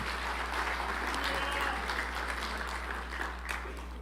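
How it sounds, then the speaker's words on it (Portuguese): A church congregation applauding, a dense, steady wash of clapping from many hands over a constant low hum, gradually easing toward the end. "Aplausos ao Senhor."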